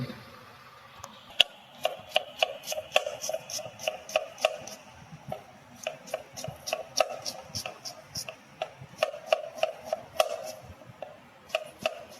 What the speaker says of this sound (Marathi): इकडे कांदा कटिंग